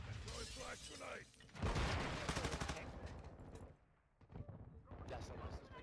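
A flash grenade is thrown in a video game, followed by a sharp bang and a rattling burst of gunfire, with someone talking over the game sounds.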